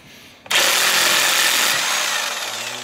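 A power impact wrench with a big socket bursts into a loud, continuous buzzing whir as it spins off a nut on a Blair Morgan snowmobile, close up and alone, then trails off near the end.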